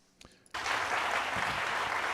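Dense crowd applause bursts in loudly after a brief quiet moment on a live morning show, then holds as a steady, full wash of clapping.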